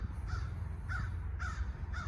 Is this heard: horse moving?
no